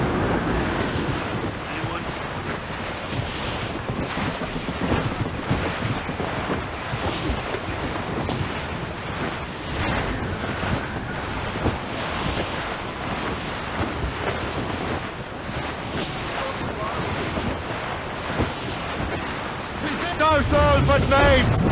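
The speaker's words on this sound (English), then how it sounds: "The wind is picking up!" Strong wind and rolling ocean surf at sea around a sailing ship in Assassin's Creed Rogue, a loud continuous roar with gusts and crashing water filling the whole stretch, with speech-like murmurs faintly in the mix.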